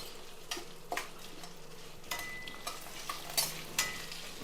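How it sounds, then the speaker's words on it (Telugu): Onions and curry leaves fry quietly in a pan, with a soft sizzle under scattered metallic scrapes and clinks from a stirring spoon. "మనకి ఇక్కడ ఆనియన్స్ అవుతున్నాయి అలాగే కరివేపాకు కొంచెం బాగా వేపుకోవాలి"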